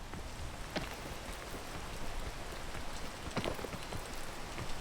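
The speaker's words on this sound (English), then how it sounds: "I can't really climb in the rain." Rain falls steadily in a video game, a soft continuous hiss of drops on a surface with a few sharper drips standing out, no voices.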